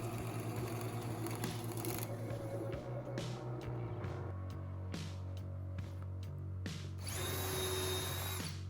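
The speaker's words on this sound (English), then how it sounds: "I use a 7/8 Forstner bit and bored out a hole on my two 11-inch pieces" A drill bores a hole in wood with a 7/8-inch Forstner bit, its motor whining steadily and shifting pitch as the cut bites, loud and close, with no talk.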